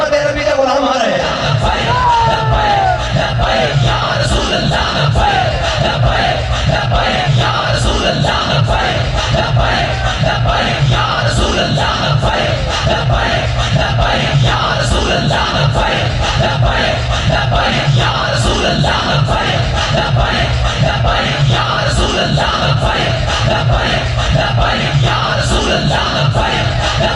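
A large rally crowd in Azad Kashmir chants the Labbaik slogan in loud, repeated unison bursts, a dense roaring mass of voices that keeps a steady rhythm throughout.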